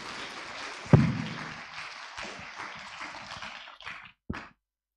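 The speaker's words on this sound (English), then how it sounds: "ladies and gentlemen, please give applause for Mr. Lester Asamoah" A burst of applause from a public lecture audience, steady clapping filling the room for several seconds before it fades and stops, with one last smattering at the end.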